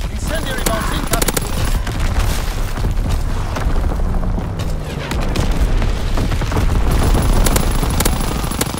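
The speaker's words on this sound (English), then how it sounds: "Incendiary bombs incoming!" Incendiary bombs from an enemy bomber detonate in Call of Duty WWII as a loud, continuous barrage of booming blasts and rapid crackling bursts, with dense overlapping impacts that never let up and a brief dip near the middle.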